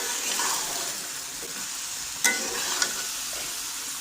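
Boiled pasta is stirred into cooked meat in a pan, a steady close sizzle and hiss with a couple of sharp spoon clinks against the pan; no speech.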